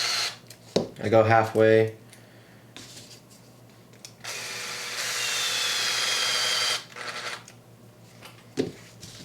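Power driver turning droop screws into a Team Associated RC8B4 rear end, a short whirring burst at first and then a longer steady whine of about three seconds. Someone speaks briefly near the start.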